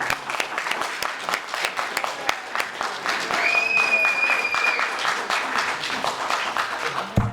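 Scattered audience clapping at a boxing hall of fame panel discussion, with distinct individual claps standing out in an uneven rhythm, and a thin tone plus a murmuring voice drifting underneath midway.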